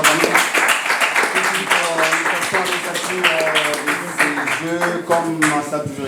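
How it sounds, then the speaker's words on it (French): Audience applause in a hall at a provincial quiz competition semifinal, dense clapping throughout with voices and cheering mixed in, steady and fairly loud. "nous les applaudissons tous."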